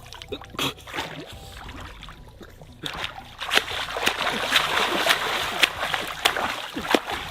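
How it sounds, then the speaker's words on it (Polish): Person splashing in cold water, with repeated sloshes and splatters close by and a voice briefly speaking among them. "Jeszcze się pluskaj, chwilę."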